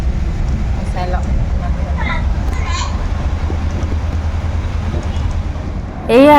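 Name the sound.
train at Tinsukia railway junction, engine joining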